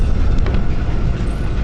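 Whole house shaking and rumbling in the Kamla horror video game, a dense, loud, continuous low rumble with no talk.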